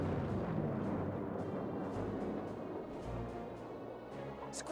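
Repeated booming cannon shots in the real-time strategy video game WWA RTS, deep low rumbles spaced irregularly and somewhat muffled, under a continuous noisy battle backdrop.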